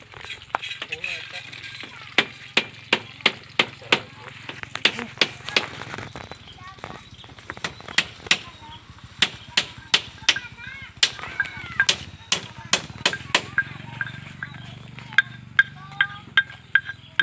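Sharp crackling pops and snaps, irregular and close, from chili peppers cooking over an outdoor fire in a garden, with people talking in the background throughout.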